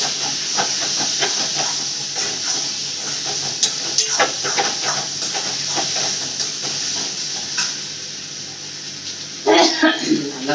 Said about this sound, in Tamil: நல்லா கொதிக்குது. மீன் குழம்பு வாசனை